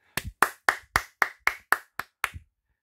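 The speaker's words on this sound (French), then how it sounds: "Pour ma part, il mérite beaucoup d'applaudissements, bah la preuve, hein, vous entendrez." A single person claps nine times in an even, brisk rhythm, each clap sharp and close, ending in quiet.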